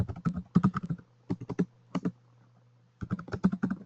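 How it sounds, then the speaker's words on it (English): Bursts of typing on a computer keyboard, clustered clicks in three groups separated by short pauses, close and clear over a faint steady hum. "in Google we can type download Oracle Goldengate"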